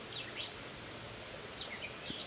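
Faint bird calls chirp and whistle in short sweeping notes over a soft outdoor hiss in a park in Natchitoches, Louisiana, a few scattered calls at a distance.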